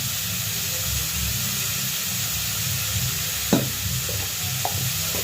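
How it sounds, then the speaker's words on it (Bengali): Water poured into a hot kadai of spiced vegetables for dalmuth chatpati sets off a steady sizzle and steam hiss, with a brief sharper burst partway through, close and alone. "কড়াইয়ে একটু জল দিয়ে দেবো।"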